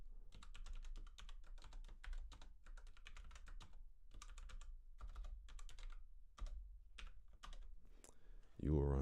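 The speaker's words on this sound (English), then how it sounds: "In the code editor, type select all from celebs." An SQL command is tapped out on a computer keyboard in quick irregular clusters of close, crisp keystrokes with short pauses between words.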